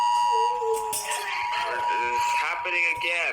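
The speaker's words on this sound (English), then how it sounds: "It was actually a child abduction alarm." An EAS child abduction alert tone sounds steadily and loud for the whole stretch, its sustained electronic pitch holding as a voice talks over it.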